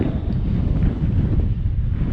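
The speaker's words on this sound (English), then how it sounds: "I hope this wind is not killing it because it's crazy windy" Loud, steady wind buffeting a microphone on a Las Vegas golf course, a constant low rumbling roar with gusty fluctuations and no speech.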